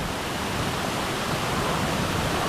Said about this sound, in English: I forgot about just how loud the waterfalls are.